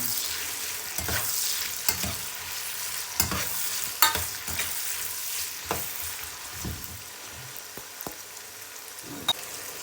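Onions fry in hot oil over a high flame for chicken degi korma, sizzling steadily up close while a spoon stirs and scrapes the pan in irregular knocks.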